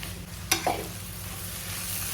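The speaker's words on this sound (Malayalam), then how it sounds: "ഇനി നമുക്ക് തുറന്ന് വെച്ച് തന്നെ ഇതിനെ ഒന്ന് വഴച്ചെടുക്കാം." Ivy gourd stir-fries in an open pan with a soft continuous sizzle, broken by a sharp utensil clank and a brief scrape near the start, then steady frying noise alone.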